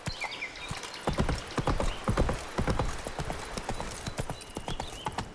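Roach the horse from The Witcher 3 galloping in game, with loud, rapid clip-clopping hoofbeats in a steady rhythm, close by, plus a brief whinny and a little speech.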